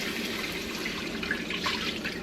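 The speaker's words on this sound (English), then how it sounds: "now you can go ahead and pour your chicken stock in there" About five cups of chicken stock poured into a pot for a Thai red curry noodle bowl: a steady, continuous liquid rush and splash, close and even throughout, with no talking.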